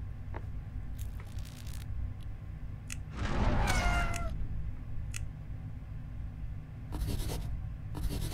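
A cat meowing in a Roblox video game, one short plaintive meow in the middle over a steady low game ambience with scattered clicks and taps around it.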